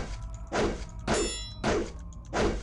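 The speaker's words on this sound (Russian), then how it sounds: "Это вроде как должен был быть бы какой-то гонг" A gong in the video game Rune strikes four times at a steady pace of about half a second, each a loud metallic clang with a brief ringing shimmer, and no talk.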